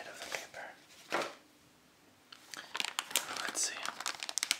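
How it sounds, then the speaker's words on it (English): Paper wrapping is peeled and crumpled off a box of Japanese candy, close and crinkly, in soft bursts with a short quiet gap before denser rustling resumes. "Let me get rid of the paper."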